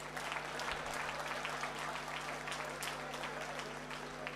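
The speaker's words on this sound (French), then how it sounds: "Applaudissez pour moi." An audience applauding a speaker at a company event, dense, even clapping sustained through the whole stretch, moderately distant with a low steady hum beneath it.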